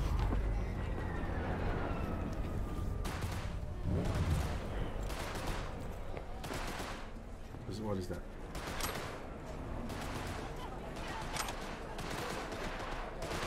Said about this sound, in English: Some gunfire happening right there.